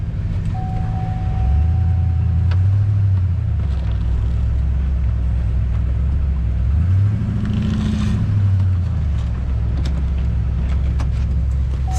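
A 2003 Chevy Silverado 1500HD pickup truck drives with a steady, loud low engine drone, rising and falling twice as it revs and settles. A faint tone runs alongside, and no one speaks.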